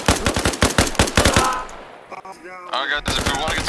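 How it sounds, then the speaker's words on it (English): Rapid bursts of automatic gunfire in the Arma Reforger military shooter, loud and close, a dense volley for the first second and a half, then sparser shots and a tonal sweep, with a voice briefly calling out. "Shooting!"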